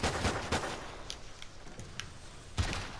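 A few sharp gunshots in Call of Duty Ghosts crack out, two close together at the start and one more near the end, with fainter pops between.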